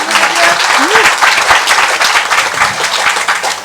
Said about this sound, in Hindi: इनके बहुत सारे बच्चे भी ताली बजाएंगे तो गूंज जाएगा हॉल हमारा।